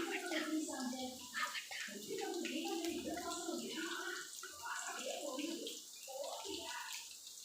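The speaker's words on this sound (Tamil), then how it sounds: "ரைஸ் பார்த்திங்கன்னா இப்போ நம்ம பொரிச்சிட்ருக்கோம்." Rice deep-frying in hot oil gives a steady, soft sizzling hiss that runs throughout beneath a person talking nearby.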